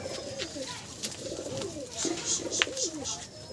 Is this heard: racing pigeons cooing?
yes